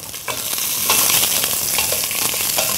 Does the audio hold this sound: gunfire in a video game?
no